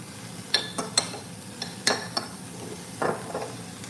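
Steak searing in a greased pan, with several sharp metal clinks and scrapes of a utensil against the pan over a low, steady frying hiss.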